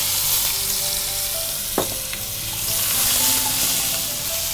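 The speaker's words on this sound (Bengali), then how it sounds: "গার্লিক এন্ড জিঞ্জার চপ আমি এখানে আপনার 1 চা চামচের মতো দিয়ে দিচ্ছি" Chopped garlic and ginger fry in oil in a pan over lowered heat, giving a steady, close sizzling hiss with one sharp clink partway through.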